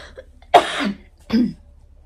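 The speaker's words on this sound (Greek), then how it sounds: "συγγνώμη για το βήχα" Two close, hoarse coughs from one person, the first sharp and louder, the second shorter and softer after a brief pause, with no speech around them.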